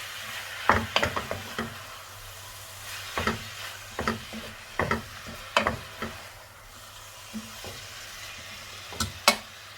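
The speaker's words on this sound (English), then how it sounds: "Continue mixing it so the mince meat becomes a bit brown in colour." A spoon scrapes and stirs mince meat browning in a pan for spaghetti Bolognese, with irregular clusters of close scraping knocks over a steady low sizzle and no talking.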